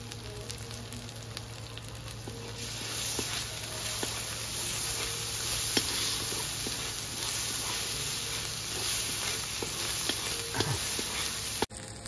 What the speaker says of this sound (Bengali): রসুন বাটা দেবো।